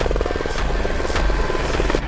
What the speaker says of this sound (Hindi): वाह, मैं हेलीकॉप्टर बन गया।